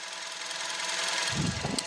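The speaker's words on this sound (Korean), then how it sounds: "엔진 소리가 상당히 조용합니다 바로 엔진 소리 한번 들려드릴게요" A steady, quiet 1.6-litre GDI engine of a Hyundai Veloster idles close by with a soft broadband hum, a low rumble swelling slightly near the end.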